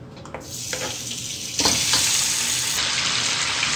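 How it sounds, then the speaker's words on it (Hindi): Chicken pieces hit hot oil in a karahi and set off a loud, close, continuous sizzle that swells after a couple of seconds and holds steady, with no voices. "तेल गरम हो गया, हम अपना चिकन डालेंगे।"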